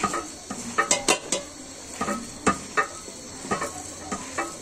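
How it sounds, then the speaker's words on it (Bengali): A batter of mixed lentils, spinach and green and dried chili paste being mixed by hand in a bowl, with squelching pats and light clinks in an irregular rhythm, close and moderately loud. "এটা আমি এখন মাখিয়ে নেব হাতে"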